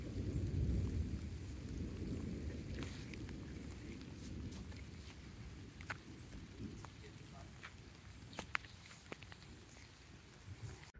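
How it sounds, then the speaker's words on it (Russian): Deep rolling thunder rumbles on a mountain trail near Old Manali at about 2,600 m, strongest at the start, then fades beneath steady rain and occasional close drips. "И гром."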